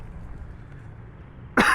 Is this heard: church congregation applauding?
no